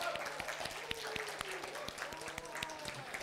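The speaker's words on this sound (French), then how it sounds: "mérite un petit applaudissement" Audience at a school conference applauding, a scattering of claps heard faint and somewhat distant with talk over them.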